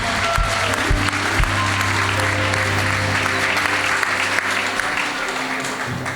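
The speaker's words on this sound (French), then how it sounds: "Clap your hand for the King of Kings." A church congregation claps loudly and continuously in dense, sustained applause, with a voice and low musical tones running underneath.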